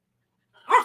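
A dog barking at a pillow gives one short, sharp indoor bark after a moment of silence.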